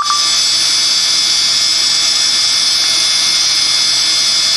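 A quadcopter motor with a small piece of vinyl tape on its side spins on a vibration test, giving a loud, steady high-pitched whine that holds constant throughout, with a faint brief beep at the start.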